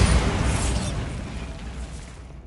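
A Bombarda explosion spell in Hogwarts Legacy: one loud, broad blast at the start that rumbles and slowly decays over a couple of seconds, with no voices.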